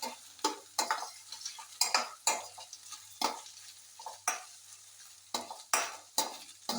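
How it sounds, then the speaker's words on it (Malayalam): A spoon stirs okra curry with chili and coriander powder in a hot pan, repeated scraping strokes at an irregular rhythm over a soft sizzle, close and clear with no talking. "മുളക് പൊടിയും 1/2 സ്പൂൺ മല്ലിപ്പൊടിയും കൂടെ ചേർത്ത് നന്നായിട്ട് അതിൻ്റെ പച്ചമണം മാറുന്നവരെ നമ്മളൊന്ന് വഴറ്റിയെടുക്കണം"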